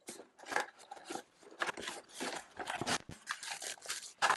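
Continuous crinkling, tearing and rustling of packaging as a wired USB keyboard and mouse combo is unboxed, close and fairly busy with short gaps.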